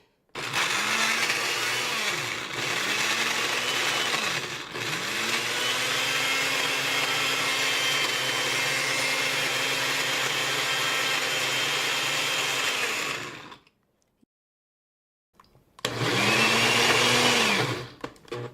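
A blender whirs loudly while making frozen ice cream, its motor running in several long bursts with brief pitch dips, stopping for a moment of silence before one more short run.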